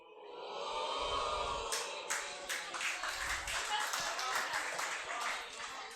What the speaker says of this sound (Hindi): जैसे जैसे अभी ताली बजाई जिसकी जरूरत नहीं थी बेटा बिल्कुल भी